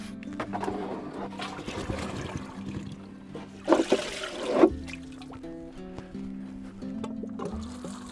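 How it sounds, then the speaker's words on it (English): Water trickles and pours onto freshly planted vegetables in a raised garden bed, a soft uneven splashing with a few louder gushes midway and a quieter background hum. "Now that's everything planted, so a good water to get everything started."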